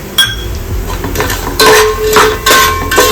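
Garlic and salt sautéing in a pan for murmura chivda, with a spatula knocking and scraping against the metal in repeated clinking bursts, fairly loud and close.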